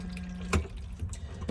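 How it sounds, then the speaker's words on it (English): Flush fluid pumped around the bowl of a cassette toilet in a 2006 Adria Twin campervan, a soft watery trickle with a brief louder gush midway, close by and fairly quiet. "you've got a blue button here on the right hand side, which will pump around the flush fluid"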